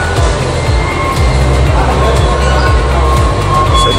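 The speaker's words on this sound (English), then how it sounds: "we're going to take the train. And this is their train station." A train at a Hong Kong station, a loud low rumble with rhythmic clacking under crowd hubbub, close and continuous.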